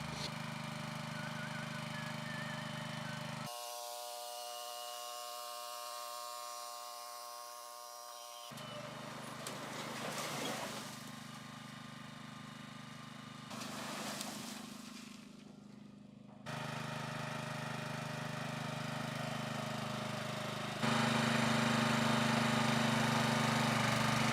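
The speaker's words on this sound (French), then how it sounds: "c'est directement couplé sur la pompe hydraulique qui est alimentée par le moteur Honda" A Honda engine drives the hydraulic pump of a multipurpose trailer-mounted forestry crane, giving a steady mechanical drone that shifts in pitch and load across several distinct stretches, with a strained whine in one part and louder running toward the end.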